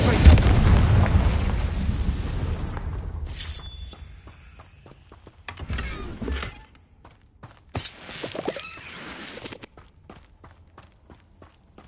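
Confringo blasting spells in Hogwarts Legacy, with a loud booming blast at the start that fades out, then scattered thuds, footsteps and sharp impacts.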